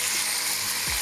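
Garlic hits a hot pan while beef is cooking, producing a steady, close, bright sizzle that runs continuously with no talk over it.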